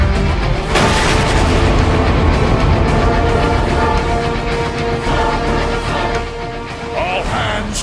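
Weapons fire and heavy booms fill a battle in the video game Transformers: Fall of Cybertron, loud and dense throughout with a sharp blast near the start and no clear talking.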